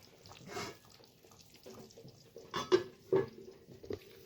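Water splashes briefly into a pot of Bengali chital fish curry with bean and potato, a few short pours and sloshes, close and fairly soft.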